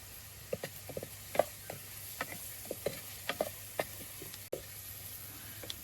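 Onion and salt tossed into a hot pan in a village kitchen give a quiet background sizzle broken by scattered sharp pops and stirring clicks, close and alone.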